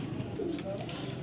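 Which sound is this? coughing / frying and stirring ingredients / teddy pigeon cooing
teddy pigeon cooing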